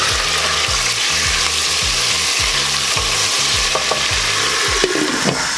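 Tomatoes, onion and serrano peppers frying in olive oil for a spicy salsa, stirred in the pan: a constant sizzle and crackle with rhythmic scraping strokes of the stirring, close and alone.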